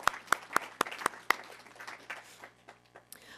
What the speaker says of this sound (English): give a round of applause to our employees of the year